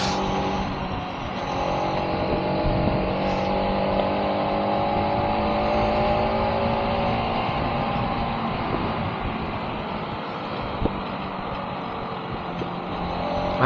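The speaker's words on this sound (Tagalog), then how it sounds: "Toyota Supra, the big bike killer." A Toyota Supra drives up the Marilaque mountain road with a steady, loud engine drone and road and wind rush that holds evenly throughout, with no talk.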